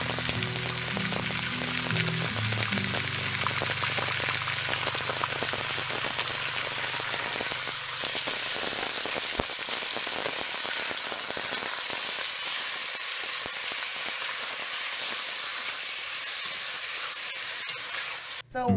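Venison stew meat browns in about two tablespoons of oil in a preheated pan, a loud, dense sizzle and crackle like steady rain that runs the whole time, with a low tone fading early and faint pops along the way.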